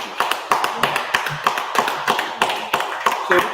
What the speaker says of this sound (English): clap it up for all the sisters